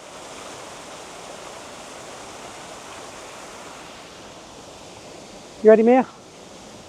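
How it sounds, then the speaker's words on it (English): A small waterfall cascading in a Scottish stream gives a steady, soft rushing wash throughout, with a person briefly speaking near the end. "Very, very pretty little cascades here."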